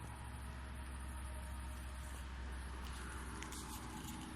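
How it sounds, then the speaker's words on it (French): Steady, faint hum of traffic from far off at 1 a.m., a continuous low rumble of cars with no distinct pass-bys, heard alone at night outdoors. "On n'entend que les voitures."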